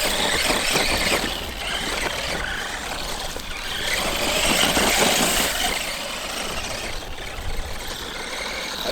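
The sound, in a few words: T2M XTS brushed RC car driving over rocks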